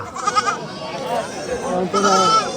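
Goats at a busy livestock market call out in short bleats, mixed with steady nearby chatter and bargaining voices throughout.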